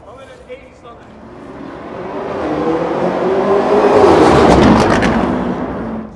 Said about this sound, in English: It is the flybys. So if you guys want to make your way over to the side of the road, we will send this Urus flying.